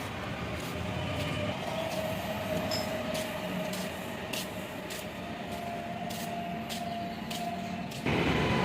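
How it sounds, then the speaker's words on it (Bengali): A train passes along a railway line in a built-up Kolkata neighbourhood near a school, a steady close rumble with a faint metallic whine running throughout and a louder burst near the end. "সামনে ট্রেন যাচ্ছে"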